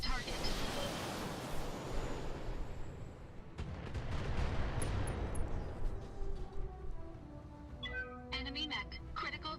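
Mech weapons unloading in the mech combat game Battletech: a heavy, booming barrage of shots and impacts, then a tail of sharper clanks and metallic hits as the volley dies away.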